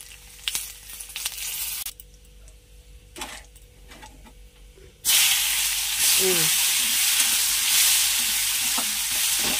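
Dried red chili, whole cumin and bay leaf hit hot oil: stirring clatters give way after a quiet stretch to a sudden loud, steady frying sizzle that carries on to the end, with some faint voice in the background.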